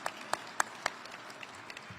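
Scattered applause at a military retirement ceremony, sparse individual claps standing out above a quiet room, fairly faint.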